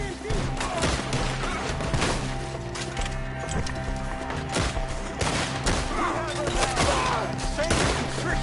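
A gunfight in Red Dead Redemption 2, with repeated loud shots and cracks in an irregular rhythm, partly under in-game shouting and a background score.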